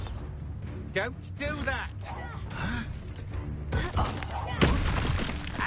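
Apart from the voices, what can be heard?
Confringo fire spell blasts in the video game Hogwarts Legacy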